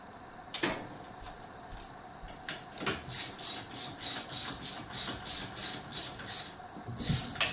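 A 15mm socket wrench ratchets as the master cylinder is unbolted from the brake booster during a 305 engine removal: quick, faint, rapid clicking in runs, with occasional metallic knocks, close by in a quiet workshop.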